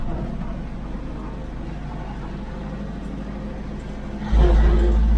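An Ursus tractor engine drones steadily at low revs while the throttle is eased off going downhill, a close, loud rumble that jumps to a heavier roar near the end.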